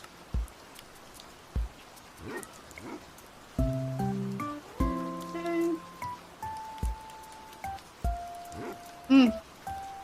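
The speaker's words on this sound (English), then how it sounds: "I think we're gonna put on Animal Crossing City Folk music with rain sounds." Soft patter of rain plays under gentle Animal Crossing City Folk melody notes, with a person talking quietly over the mix.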